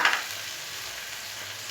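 Chopped tomato drops into hot oil after fried potatoes for vegetarian Bengali aloor dum, a sharp sizzle burst at the start settling into a steady, close frying hiss, with no talking.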